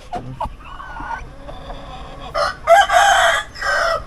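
A native Bisaya rooster crows loudly nearby after a few faint clucks, its call rising and holding for over a second amid a farmyard of free-ranging chickens.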